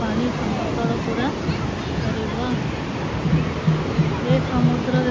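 Sea waves rolling in at Chandrabhaga beach near Konark, a steady broadband wash of surf with gusts of wind, while a voice speaks over it throughout.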